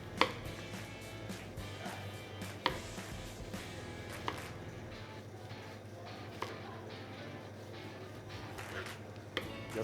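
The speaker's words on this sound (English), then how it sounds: "we slice it thinly" A knife slices an orange thinly on a cutting board, making a series of sharp, irregular taps against the board over a low background hum, with no talking.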